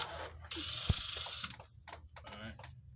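A ratchet clicks in quick runs of turns on the last bolt of a Ford 4R100 transmission pan, close and distinct, with short pauses and a few clanks between bursts.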